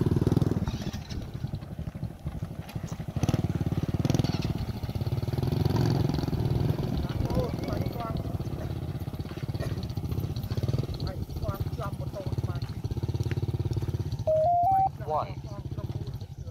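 A teacher's motorcycle with a burst tyre, on the road to a festival at Prey Lang: its engine runs steadily and loudly throughout, with voices talking over it.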